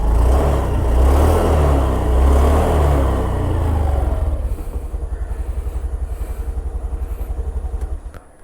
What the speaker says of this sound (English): Now let's turn on the Activa 125.